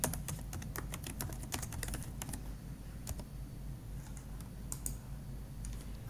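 Bursts of rapid typing on a computer keyboard during payroll data entry, close and fairly quiet, with keystrokes clustering in quick runs then thinning out, no talking.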